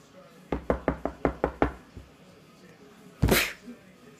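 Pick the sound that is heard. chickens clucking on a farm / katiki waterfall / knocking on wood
knocking on wood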